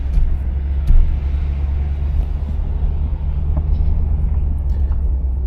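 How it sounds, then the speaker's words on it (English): A 1988 Chevrolet Caprice engine while driving, a steady low rumble of motor and road noise from inside the car, fairly loud and unbroken, with no talk. "Motor sounds nice and quiet."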